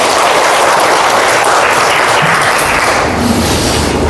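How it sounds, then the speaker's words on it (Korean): A lecture audience applauds, giving a loud, dense, continuous wash of clapping that holds steady for a few seconds before easing slightly. "박수로 부탁드리겠습니다"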